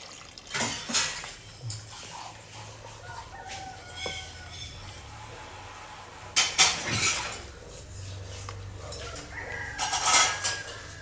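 A spoon scrapes and clinks intermittently while jackfruit payasam with added milk is stirred in a pot, close and moderately loud, with a rooster crowing and clucking in the background.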